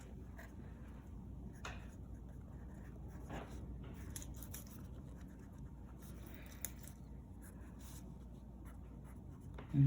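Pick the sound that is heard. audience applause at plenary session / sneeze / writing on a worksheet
writing on a worksheet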